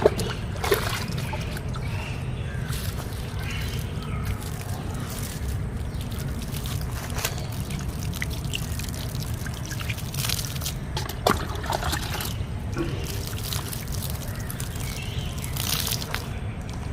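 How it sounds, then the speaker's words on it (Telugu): Water poured onto newly planted water apple saplings in a garden bed, a steady trickling and splashing that runs throughout with no talk. "ఇప్పుడు మొక్కలను నాటేసుకున్నాం కదా ఇప్పుడు మనం నీళ్ళు వేసేద్దాము"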